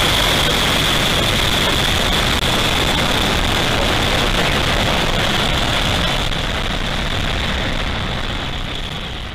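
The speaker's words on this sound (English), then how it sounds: "watch as Falcon 9 takes our 53 Starlink satellites into orbit" A Falcon 9 rocket launching through fog with 53 Starlink satellites aboard: a continuous, loud, broadband roar with no voices, holding steady and easing slightly toward the end.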